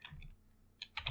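Code being typed on a computer keyboard: a couple of soft key taps, a pause, then a quicker burst of clicks at the end, close and quiet, no voices.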